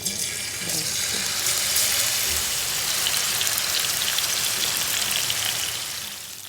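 Marinated chicken shallow-frying in a little oil in a pan gives a steady, dense hiss with fine crackling spatter throughout, fairly loud and close, fading slightly at the end.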